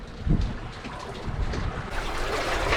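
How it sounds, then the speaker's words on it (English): A sailboat under sail in light wind of about four to five knots, with steady broadband water and wind rush against the hull, fairly close and continuous with no voices. "We're sailing. We've only got 5 knots of wind, 4 knots of wind."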